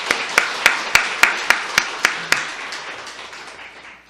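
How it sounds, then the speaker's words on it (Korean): A church congregation gives a round of claps for its youth members: about nine sharp, evenly spaced claps, close and fairly loud, fading into a quiet room. "우리 청년교회 멤버들 우리 고맙습니다라는 의미로 박수 한번"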